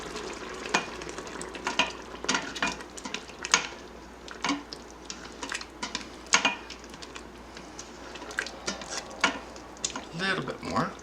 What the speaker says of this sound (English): As you put this in, stir it really nicely so we don't have an issue.